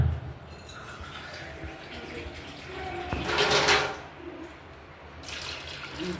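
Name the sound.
water being poured over tamarind to soak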